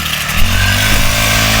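A gasoline grass cutter with nylon line cutting grass on a farm, a loud, steady, buzzing two-stroke whine running close up and continuously.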